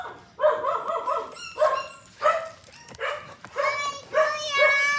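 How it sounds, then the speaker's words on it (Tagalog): Several dogs bark in short bursts of loud, close barks and yips, joined by some whimpering, with chatter in the background. "Yung aso natin guys."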